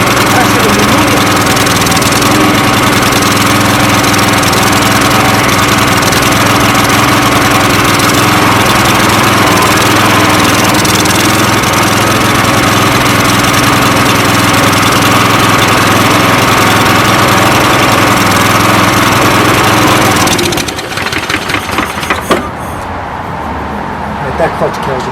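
A Toro Personal Pace lawn mower engine runs loud and close with a steady roar for about twenty seconds, then cuts out abruptly, leaving a few faint clicks and rattles.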